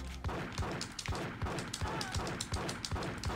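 A gun in GTA Chinatown Wars fires a steady string of evenly spaced shots, roughly two to three per second, at moderate volume with no voices.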